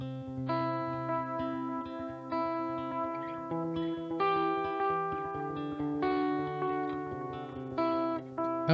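An electric guitar runs through a Line 6 Helix Adriatic delay, playing ringing chords and notes whose sustained tones repeat and trail into echoing tails, clear and up front without any talking.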